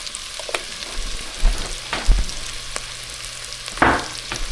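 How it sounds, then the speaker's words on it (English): Cumin, cayenne and other spices sizzling in butter in a pan, under a low crackle broken by several separate scraping stirs and one louder hiss near the end. "you're just going to stir that because you want it to get mixed with the butter, get a little bit of browning"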